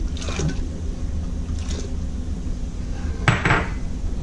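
Chili and soybean paste being mixed in a cooking pot for seafood tom yum, with a few scattered metallic clinks and scrapes of a utensil against the pot over low background rumble.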